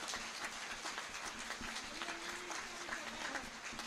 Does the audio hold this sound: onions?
no